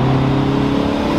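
A car engine revs steadily in third gear at high rpm, a loud, sustained, even drone with no break in the brief burst.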